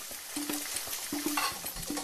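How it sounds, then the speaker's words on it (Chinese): Pork pan-frying in oil sizzles softly and steadily, with a faint repeated ringing tap of a utensil against the pan, close and alone. "油煎出香"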